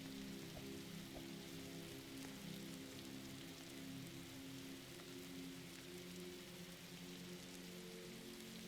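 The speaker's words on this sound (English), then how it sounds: "Hey, we have shelter at least, because it's raining." Steady rain in the video game 99 Nights in the Forest, a continuous hiss of drops falling on surfaces, with a low droning tone running underneath throughout.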